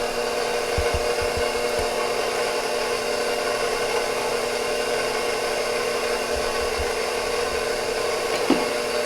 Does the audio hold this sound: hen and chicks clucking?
no